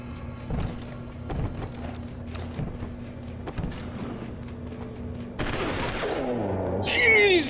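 Gunfire in the video game Deus Ex: Human Revolution: a string of sharp shots spaced about a second apart over a mechanical background hum, then a louder burst of heavier, overlapping blasts and metallic clatter near the end, with a voice present.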